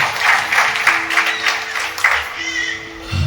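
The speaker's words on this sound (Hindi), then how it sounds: "मैं चाहता हूं आप सभी हम ताली बजाकर उनका स्वागत करें।" A church congregation claps to welcome a speaker, a loose, uneven patter of hands near the microphone that thins out toward the end, with a faint tone in the background.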